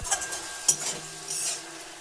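Vegetables, winter greens and a blended mustard spice paste being stirred together in a pan, with soft sizzling and a few spoon scrapes and clinks against the metal, fairly quiet and close.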